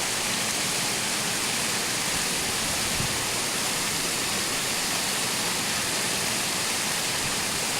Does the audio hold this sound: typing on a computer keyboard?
no